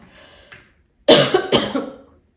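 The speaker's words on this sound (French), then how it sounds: "Pardon, je me suis étouffée avec de l'air." A burst of harsh, close coughing from a woman choking on air, two or three sharp hacks in quick succession after a brief faint breath.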